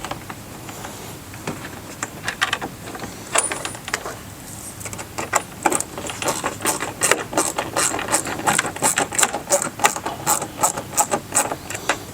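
Screws being driven into the inner mount points of Rokblokz mud flaps on a 2024 Ford Ranger Raptor, a ratcheting, clicking mechanism whose rapid bursts grow denser and louder over the second half, close up with no talk.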